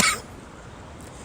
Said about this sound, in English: I've developed a cough